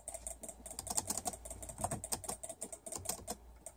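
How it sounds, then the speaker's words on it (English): Computer keyboard clicked rapidly while playing Roblox, a quick uneven run of close, crisp keystrokes with no talking. "Sorry about the clicking noises."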